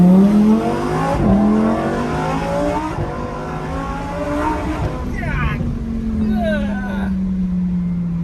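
A 2021 Lamborghini Huracan Evo coupe's engine revs hard and climbs in pitch, falls back and rises again in repeated loud, close sweeps, with a voice speaking over it.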